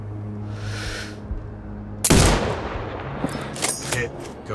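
Sniper rifle shot in the game Sniper Ghost Warrior Contracts 2, set in a grey desert: a single sharp, loud crack midway, followed by fading rumble and scattered faint clicks.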